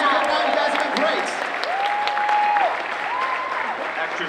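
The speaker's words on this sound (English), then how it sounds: "So a round of applause for all yourselves" A crowd at the 2017 Planet Comicon cosplay competition applauds steadily and loudly, with gliding whistle-like tones and some voices and cheers mixed into the clapping.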